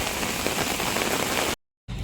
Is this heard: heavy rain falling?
yes